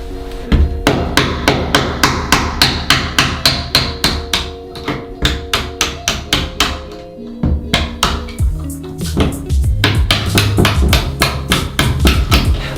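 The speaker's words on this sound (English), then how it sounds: "I'm just gonna lightly tap on the vice grips themselves. Until the cap comes out." Steady, rapid metallic hammer taps on vice grips clamped to a door hinge pin repeat close up, sharp and ringing, with a brief pause midway before the tapping resumes and continues.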